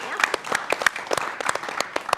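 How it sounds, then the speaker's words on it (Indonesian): Studio audience applauding at a televised talk show on legal aid, a dense burst of clapping with sharp individual claps standing out, fairly loud and steady throughout. "Tepuk tangan dulu untuk kita."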